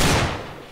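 A single P20 gunshot in a video game, a brief loud burst that quickly decays, with no talk.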